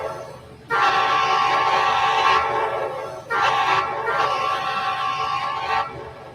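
A diesel locomotive horn sounds loud and close on a descent through Cajon Pass, blown in two long quilled blasts, the first held about two seconds and the second about two and a half, over a low rumble of the train.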